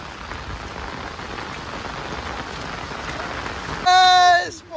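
Dense, steady rain patters and hisses for several seconds, then a voice suddenly cuts in loudly near the end.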